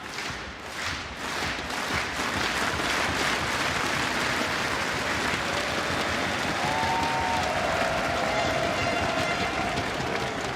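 An esports arena crowd roars and cheers through a Counter-Strike grand final between Na'Vi and FaZe, loud, dense and continuous from start to finish with scattered shouts and clapping.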